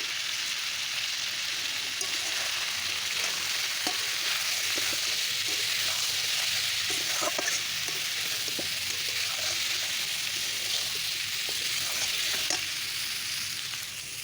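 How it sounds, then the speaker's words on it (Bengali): Green vegetables and potatoes fry in a pan with salt and turmeric, giving a continuous loud sizzle like steady rain, with scattered small crackles and stirring taps throughout, close and without talk. "দিয়ে দিলাম স্বাদ মতো লবণ পরিমাণ মতো হলুদ আবার একটু কষিয়ে নেবো"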